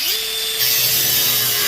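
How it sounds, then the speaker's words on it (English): Power tool cutting through the screws on a scrap electric motor, a steady sustained whine that rises in pitch and holds, loud and close, with no talking. "what you do is you just cut these screws on all the sides"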